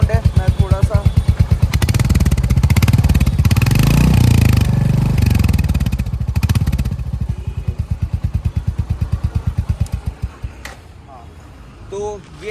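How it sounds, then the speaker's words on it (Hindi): Stock exhaust of a Royal Enfield Hunter 350 motorcycle, a close, loud single-cylinder thump rising into a revving roar then settling back to a steady idle pulse, with people talking over it. "तो ये एग्जॉस्ट साउंड था"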